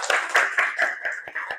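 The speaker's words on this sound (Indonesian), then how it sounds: "Kita kasih tepuk tangan untuk kelompok 1 semuanya." A short burst of audience clapping for a presenting group in a teacher-training session, about seven loose claps in an uneven rhythm, close and moderately loud.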